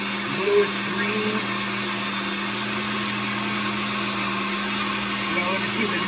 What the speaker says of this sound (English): 30 seconds on the blender